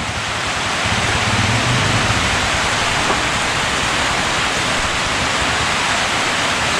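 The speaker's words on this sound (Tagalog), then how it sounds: "Inabot pa tayo ng ulan." Steady, heavy rain pouring down in a constant hiss, loud and close, with no break throughout.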